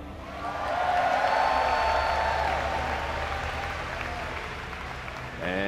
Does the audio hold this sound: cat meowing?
no